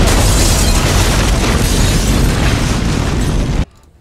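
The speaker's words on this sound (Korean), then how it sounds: "그와 동시에 발사되는 폭탄." A bomb blast in the crime action film Léon: a loud, sustained roaring explosion filling the sound for over three seconds before cutting off abruptly to near silence.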